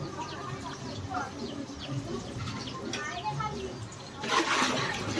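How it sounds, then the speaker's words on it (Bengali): Water for Janmashtami bhog cooking splashes into a pot, building to a louder gushing pour near the end over a background of murmuring voices and faint bird sounds. "হাঁড়িতে কত জল দিচ্ছে?"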